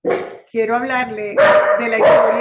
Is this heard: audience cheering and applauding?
no